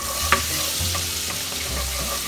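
Vegetable oil and butter sizzle steadily in a pan, a close, continuous frying hiss broken by a few soft clinks and stirring knocks.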